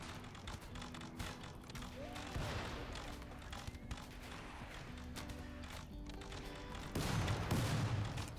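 Gunfire in RimWorld during a raid fight, heard as faint, scattered rapid shots and pops under a quiet, busy game background, with a slightly louder burst toward the end.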